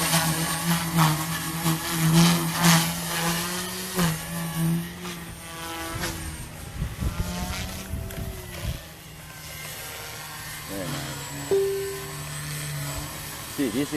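An RC helicopter rotor spins at reduced RPM outdoors at an IRCHA event, a steady whirring drone with shifting pitch and a passing buzz, mixed with people talking nearby.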